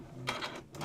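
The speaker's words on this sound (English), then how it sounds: "I'm going to stitch to about there and do a back stitch" A sewing machine runs in two short bursts of rapid mechanical stitching while working a back stitch on fabric, close and fairly quiet, with a brief pause between the runs.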